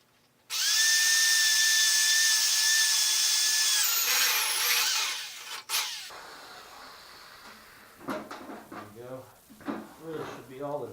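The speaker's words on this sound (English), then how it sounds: "I'll go ahead and drill the other hole" A power drill whines steadily for a few seconds, then winds down with clattering handling noises, followed by someone talking nearby.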